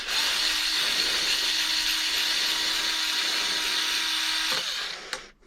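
A power tool spins a nut on the fork stem of a Xiaomi M365 electric scooter, producing a close, loud, steady high-pitched whir that runs for about five seconds before cutting off sharply.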